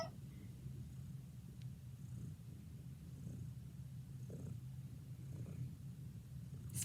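A cat purrs close by in a steady, low, rhythmic rumble that continues throughout with no talking.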